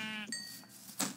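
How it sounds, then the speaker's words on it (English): A sheep bleats briefly in the Minecraft video game, a short wavering cry followed by faint game sounds, close and moderately quiet. "Is that a sheep in a tree?"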